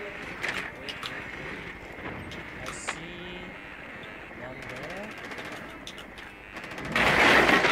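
Rapid gunfire in the tactical shooter Rainbow Six Siege crackles under ongoing voice chat, with scattered shots throughout and a louder, denser burst near the end.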